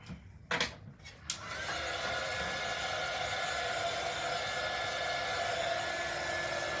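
A few handling knocks come first, then a dryer switches on and whirs steadily and close, drying paint on a snowflake door hanger.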